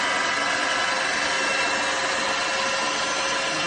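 A freshly built Grand Prix GTP transmission running in reverse on a dyno gives a loud, constant mechanical whine and hum with a steady tone throughout and no break or change in level.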